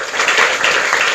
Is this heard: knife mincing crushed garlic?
no